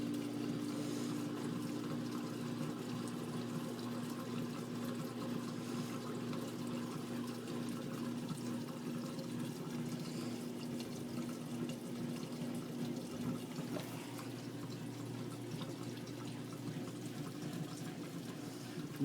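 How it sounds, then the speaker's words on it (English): Steady rushing water pours continuously with a low mechanical hum underneath as an LG WT1101CW top-load washer fills, unchanging and fairly close. "So it must be getting ready to put new water in here."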